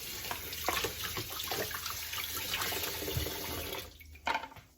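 Grape tomatoes are rinsed under a running kitchen tap, and water streams and splashes steadily into the sink up close before the flow is shut off near the end.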